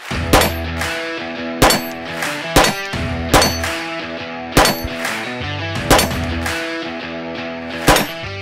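A Glock 19 pistol fires about seven sharp shots at a steady, unhurried pace, each crack close and loud with ringing metallic clangs in between.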